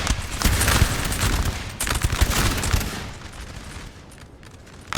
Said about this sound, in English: Start unleashing some more volleys into these damn Frenchies.